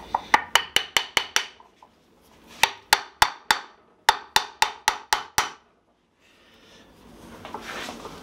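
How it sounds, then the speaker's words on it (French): A hammer taps a wooden front leg joint of a Sam Maloof–style chair into place in quick, sharp bursts of several blows each, loud and close, followed by a softer scraping shuffle. "Marteau."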